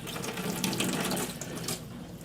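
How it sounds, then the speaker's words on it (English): Cold water gushes steadily from a tap into a beer brewing line, a continuous bright splashing hiss at close range that eases slightly near the end. "So we got cold water on the go now."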